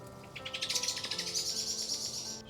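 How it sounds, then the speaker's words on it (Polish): A small bird in a forest cemetery calls in a quick series of bright chirps, close and fairly clear against a quiet woodland background. "zobaczcie, jak tam ptaszek usiadł"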